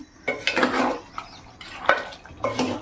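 Mutton curry is stirred in a pot on the stove, with a spoon scraping and clinking against the metal in three or four separate close strokes over a faint simmer.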